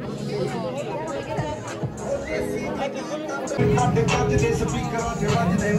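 Tourists crowd a cliffside viewpoint at Amarkantak, their chatter forming a dense, close babble that swells louder midway, with one voice talking nearby over it.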